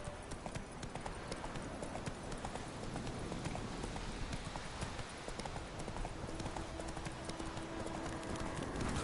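Roach, the horse in The Witcher 3 on PS4, gallops in a fast, continuous drum of hoofbeats that fills the clip steadily at close range, with no talk over it.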